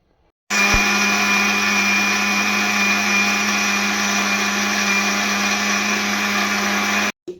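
A kitchen mixer grinder whirs steadily for about seven seconds, blending soaked chickpeas with water into a smooth dosa batter; the loud, continuous motor hum starts abruptly and cuts off at the end, with no talking over it.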